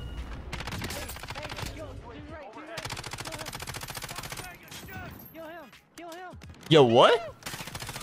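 Rapid automatic gunfire from a Warzone video game match rattles in long, even bursts, loud and close, with short gaps between them, while someone speaks briefly and excitedly over it.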